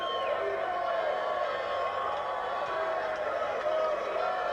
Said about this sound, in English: A very happy, celebratory crowd